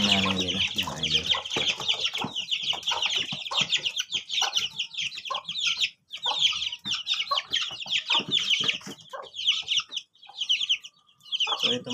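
A mother hen in a backyard flock clucks continuously with busy, overlapping chicken chatter close by, the calls coming in quick rhythmic bursts with only brief pauses.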